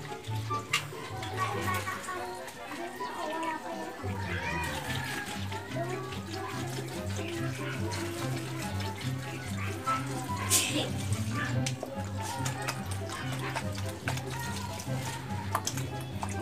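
Water being poured into a container for pet birds, a continuous splashing, running stream with a gurgling character that goes on steadily, while music plays in the background.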